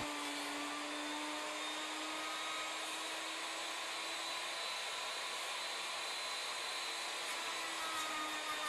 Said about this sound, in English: The first pass has a 1/4 inch step over to quickly remove most of the stock and turn the blank round.